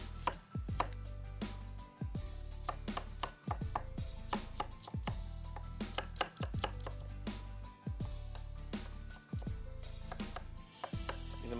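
A knife finely chops onion and coriander on a board, fast, close, rhythmic taps in bursts separated by brief pauses, with a low background hum and no talking.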